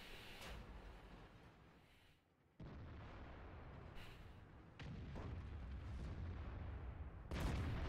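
Tank cannon fire and explosions in the World of Tanks video game, with several sharp booming blasts spaced a few seconds apart over rumbling battle noise, the last one loudest.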